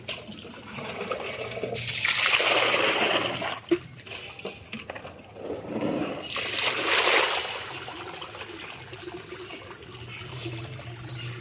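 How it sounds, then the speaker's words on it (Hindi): Water poured from above in a steady stream into a tub of mud for planting a lotus tuber, gushing in two loud bursts with quieter trickling between them. "फिर हम इसमें थोड़ा सा पानी और डालेंगे। पानी हमको ऊपर से डालना है धार बना के"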